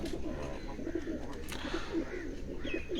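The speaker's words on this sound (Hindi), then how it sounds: "एक और कबूतर है वो आपको दिखा रहे हैं।" Pigeons at a rooftop loft coo softly in repeated low, rounded calls over a faint background hum, with no talking.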